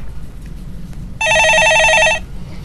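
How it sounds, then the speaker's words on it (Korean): A telephone rings once in a Korean stock-market call-in broadcast studio, a loud, steady electronic trilling ring lasting about a second over quiet room tone, with no talk. "전화 받아보겠습니다"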